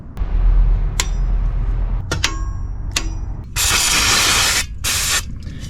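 Brake cleaner is sprayed onto the ZF manual gearbox of a 1999 BMW Z3 2.8 roadster in two close, loud hissing bursts, preceded by several sharp ratchet clicks and metallic taps.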